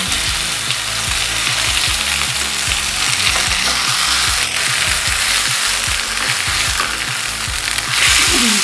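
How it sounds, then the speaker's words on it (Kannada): Fish sizzles and spits loudly in hot oil in a pan, a dense, steady crackle that stays close and constant for several seconds with no talking. "ನೋಡಿ ಚಂದ ಫ್ರೈ ಆಗ್ತದೆ ಎರಡೂ ಸೈಡು ಕೂಡ ಫ್ರೈ ಮಾಡ್ಕೊಳ್ಬೇಕು"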